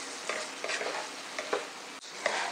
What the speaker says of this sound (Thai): ใส่เยอะๆผัดกุ้งให้สุกก่อนค่ะ